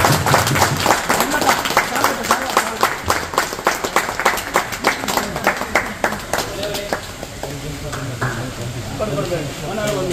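An audience at a Dalit Sena branch inauguration ceremony claps loudly and densely, with crowd voices mixed in. The clapping starts strong and thins out toward the end.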